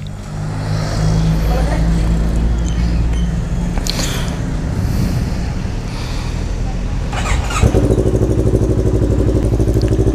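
Kawasaki NK400 motorcycle engine idling steadily up close, a loud continuous rumble with a throttle blip and firmer, rougher idle near the end, heard alone without speech.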